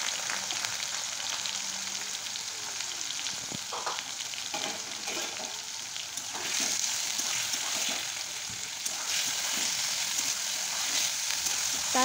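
Boiled ridge gourd and potato frying in mustard oil with cumin, a continuous close sizzle punctuated by repeated stirring clatters and scrapes of the spoon against the pan, no voices.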